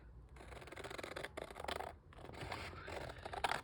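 Scissors cutting through craft material, a close, continuous scratchy snipping and rubbing with brief pauses, no talk.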